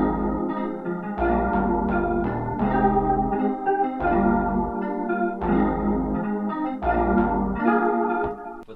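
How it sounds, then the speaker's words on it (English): Bass line, guitar and piano play together in a steady hip-hop style loop, full and continuous with a deep low end and bright chords, no drums and no voices. "Guitar and the piano all together so far, it sounds like this."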